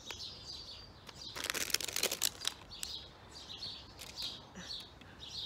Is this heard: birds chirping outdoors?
yes